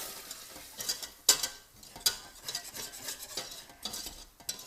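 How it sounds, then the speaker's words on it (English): A utensil scrapes and clinks against a pan as flour is stirred into melted butter for a roux, with soft sizzling underneath; close, irregular strokes at low volume. "give it a little stir."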